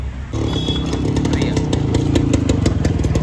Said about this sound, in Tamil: ப்ரோ வந்து நம்மளோட வண்டியை ஓட்டி பார்க்க வரோன்னு போயிருக்காரு.